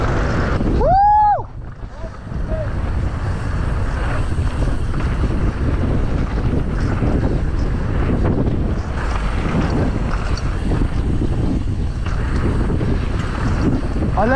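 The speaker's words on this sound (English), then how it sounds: "Quite windy." Strong wind on a mountain ridge buffets the microphone in a steady, loud roar that lasts throughout, with a brief whoop of a voice near the start.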